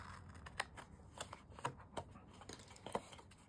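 Scissors snip through a paper square while making a Christmas bauble ornament, giving a handful of crisp, quiet cuts spaced irregularly against a soft background, with no talking.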